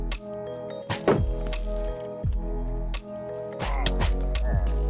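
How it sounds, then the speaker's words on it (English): Arrows thunk and crack against a player's shield in Minecraft: several sharp, close impacts scattered irregularly over a steady bed of game music and ambient tones. "How am I getting shot through my shield?"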